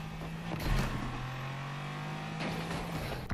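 A Range Rover in Need for Speed Unbound pulls away off-road, its engine droning steadily and close with a sustained low hum and rising revs throughout, no voices over it.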